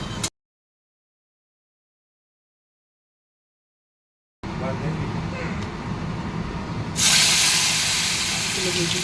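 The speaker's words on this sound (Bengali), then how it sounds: "মাছগুলো ভেজে দিই।" Pieces of katla fish hiss and spit in hot oil for Bengali fish curry, a steady broadband sizzle that swells louder near the end after a silent gap.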